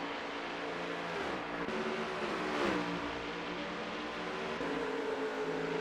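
Race cars lapping at Road America during a Round 5 race, a steady blended engine drone with rising and falling pitch sweeps as cars pass at moderate distance, no talk over it.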